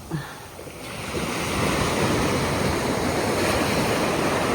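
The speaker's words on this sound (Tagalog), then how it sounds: "Ayan yung dagat." Sea surf washes continuously onto the shore of Jomalig Island, a broad steady roar building after the first second, with wind buffeting the microphone.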